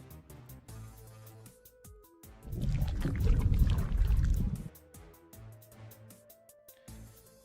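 A belly slosh fluid sound effect from a sound library plays as a thick, gurgling swell of liquid lasting a couple of seconds, loud against a faint clicking, tonal background.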